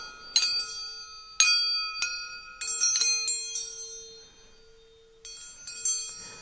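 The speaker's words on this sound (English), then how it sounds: "by tying multiple spoons or forks around a piece of string, you get almost chordal sounds" Spoons and forks tied on a string give bright metallic clanks in irregular bursts, each strike blooming into several overlapping, bell-like tones that hang together almost like a chord before fading.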